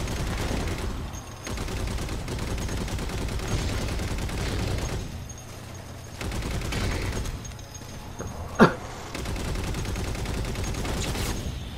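Turret gunfire in the video game Halo 4 rattles in long sustained bursts with short pauses, loud and dense, with one sharp blast standing out near the end.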